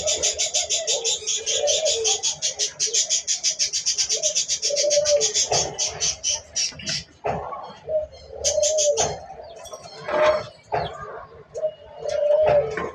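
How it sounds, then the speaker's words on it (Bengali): Pigeons at a village farm with newly hatched chicks coo loudly and close, in repeated rolling calls that overlap one another, with scattered rustling and other noises in between and no voices. "কবুতরের বাচ্চা ফুটেছে"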